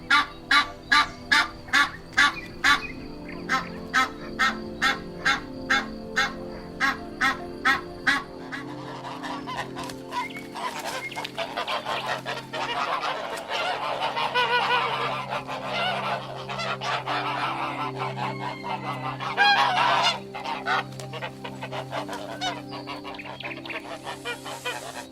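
A goose honks in a rapid, regular series of loud calls, then a noisier flock of geese and other fowl honks and cackles continuously, fairly close and without talk.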